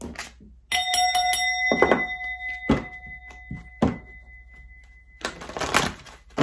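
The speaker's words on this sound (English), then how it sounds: "I'm gonna hit the bell." A bell struck several times in quick succession during a tarot reading, its clear tone ringing on and slowly fading while a few dull knocks sound nearby; no one speaks.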